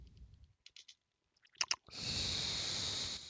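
Short bursts of computer keyboard clicks sound close and crisp, separated by pauses, before a steady hiss takes over.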